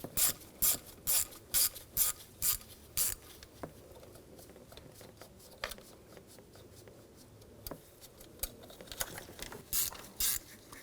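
A ratchet wrench removes valve cover nuts on a 2007-2013 BMW X5 3.0L inline-six, with quick bursts of sharp ratcheting clicks, a pause of scattered light clicks, then a further run of ratcheting, close and quiet.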